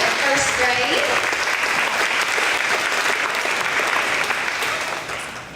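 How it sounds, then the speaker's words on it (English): An audience at a first grade awards event gives a loud, sustained round of clapping with faint voices mixed in, holding steady before easing off at the close. "Let's give him a round of applause, Dutch, for being our top tiger boy of first grade."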